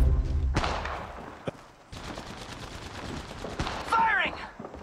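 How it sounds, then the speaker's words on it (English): Gunfire in the battle royale game Apex Legends, rapid bursts of automatic shots in a busy firefight, with thuds, mechanical clatter and a voice speaking over the action. "They're shooting at me!"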